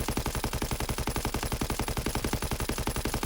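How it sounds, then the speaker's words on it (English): A full magazine emptied in one unbroken burst from a gun in Call of Duty WW2, the rapid evenly spaced shots loud and close, running the whole length without any voices. "I'm going to pull the trigger and let the clip empty itself"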